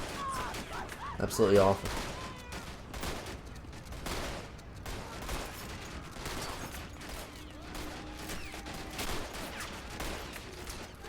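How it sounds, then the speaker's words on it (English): Bolt-action rifle fire from a war video game battle at a bridge, scattered cracking shots with a louder burst near the start, a voice briefly speaking over it amid steady battlefield clatter. "Taking some pot shots at the mass of men that's coming towards them past the tree line."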